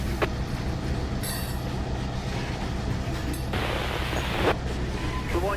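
A model train rolls in on a layout with a steady, dense rumble of wheels and track, brief squeals and a hissing patch midway, all close and continuous.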